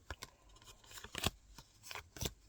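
A deck of cards is shuffled quietly, giving soft riffling flutters and a few sharper snaps in short bursts, close by with no talking.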